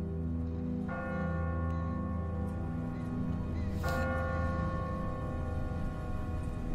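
A church bell tolls in The Walking Dead video game, two loud strikes with rich ringing overtones that sustain over a steady background hum.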